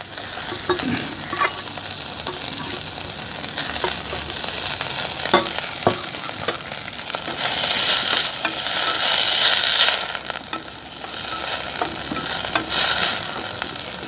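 Steady oily sizzling of Euphorbia hirta herbs sautéing in oil, with occasional scraping stirs, rising louder for a stretch before settling back, with no talking.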